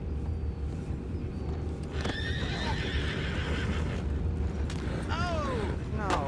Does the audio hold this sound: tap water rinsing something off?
no